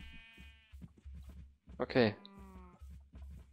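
Sheep bleat in Minecraft, a harmonic wavering call rising briefly over a low steady in-game hum, with a speaker talking in German around it.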